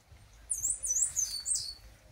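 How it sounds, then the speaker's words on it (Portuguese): A small bird sings a quick, high, twittering phrase, faint and somewhat distant, over a quiet low hum. "só o canto dos passarinhos"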